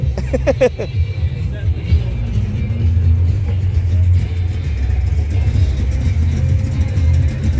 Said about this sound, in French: pour un changement, voici notre Cadillac